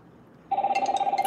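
A telephone bell rings with an incoming call, starting suddenly and trilling in rapid, steady pulses, loud and close.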